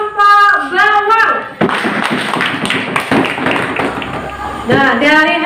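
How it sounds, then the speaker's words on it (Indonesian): A primary school class claps for a student group, a burst of quick, uneven handclaps from many children between stretches of a teacher's voice at the start and end. "beri tepuk tangan untuk kelompok bawang"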